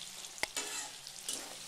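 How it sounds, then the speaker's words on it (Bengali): Onions sizzle in hot oil for biryani birista, a soft crackling fry with a couple of brief stirring scrapes, close and fairly quiet. "এই পেঁয়াজটা ভাজা হচ্ছে, পেঁয়াজটাকে ভেজে ভাজা হয়ে যাবে।"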